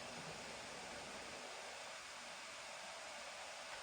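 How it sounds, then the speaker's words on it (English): Lenovo Legion Slim 5 gaming laptop with AMD hardware, set to performance mode while running demanding games, gives off a steady, loud broadband whoosh of fan noise that holds constant throughout with no talking. "Let's throw it on performance real quick, and we'll listen to it get noisy."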